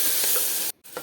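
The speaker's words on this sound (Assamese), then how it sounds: "এতিয়া গাজৰ আৰু মটৰ ধুনীয়াকৈ পিঁয়াজৰ লগত অলপ টাইম ভাজি ল'ম" Carrots and peas fry with onions in a pan, giving a steady close sizzle with a few stirring clicks and one brief gap near the end.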